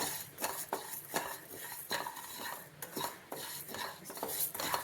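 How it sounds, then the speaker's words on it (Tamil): Moong dal dry-roasted in a pan and stirred, repeated close scraping and clinking of a metal spoon against the pan in a quick irregular rhythm. "இதை நல்லா வறுத்துக்கிடுவோம். நல்லா பாசிப்பருப்பு நல்லா மணம் வரும், அது வரைக்கும் நல்லா வறுத்துக்கிடுங்க."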